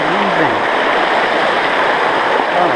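Cold, deep stream water rushes steadily around legs wading through it on a Black Forest trail, a loud, continuous close roar with no pauses.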